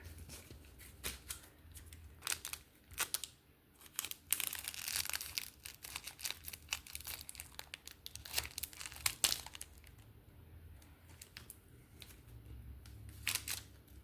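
Scissors snip open Magic: The Gathering card packs, the foil wrappers crinkling and rustling between irregular sharp cuts, close and fairly quiet.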